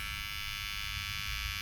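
American Barber ZEROGAP cordless skeleton hair clippers hum continuously at close range, a steady motorized buzz with a slight low rumble and no talking.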